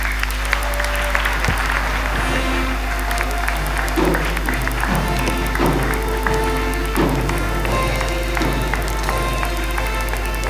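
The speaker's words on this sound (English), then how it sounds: "Please, can we give another round of applause?" Sustained applause from a lecture audience closing an inaugural lecture at a university hall, dense steady clapping filling the room for the full stretch, with a low hum beneath and a few louder claps standing out.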